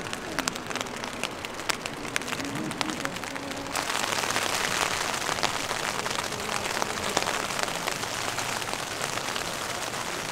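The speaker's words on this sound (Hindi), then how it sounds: "1 घंटे से नॉनस्टॉप बारिश पड़ रही है।" Continuous rain falls on a tent at a campsite on the Kareri Lake trek in Himachal Pradesh, a constant close pattering hiss that grows slightly denser partway through, with no speech.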